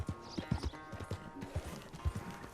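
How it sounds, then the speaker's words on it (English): Horses clip-clop in Red Dead Redemption 2, quick irregular hoof thuds close by and fairly quiet. "Oh, hello, horses."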